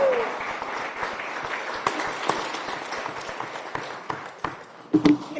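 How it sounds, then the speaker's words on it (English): Steady applause from a sizable crowd at a tourist development council meeting, dense and continuous, with a few sharper individual claps standing out toward the end. "Round of applause for them."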